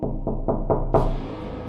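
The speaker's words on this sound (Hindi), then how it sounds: "अचानक आधी रात को उसके दरवाजे पर किसी ने जोरों से नॉक किया" Loud knocking on a door at midnight: four heavy, evenly spaced knocks and then a fifth, harder blow that rings on briefly, close and alone with no voices.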